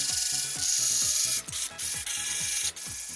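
A ratchet wrench clicks rapidly and repeatedly as it removes four bolts from an aluminum engine cover, loud and close, in short bursts with brief gaps.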